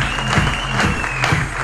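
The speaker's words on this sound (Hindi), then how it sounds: "2-4 सेकंड के लिए जोरदार तालियों के बीच" Loud applause from a comedy show audience, steady dense clapping filling the whole stretch without a break.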